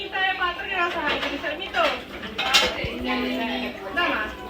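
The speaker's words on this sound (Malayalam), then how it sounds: "ഇതാ പാത്രം കഴുകുവാണ്" Dishes and cutlery clatter and clink in running water at a sink, with people talking over the washing.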